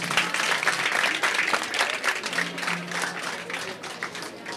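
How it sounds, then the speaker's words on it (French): An audience applauds a professor at a French-language debate event, steady dense clapping that holds for several seconds at even loudness and then eases slightly. "Applaudissez-le très fort"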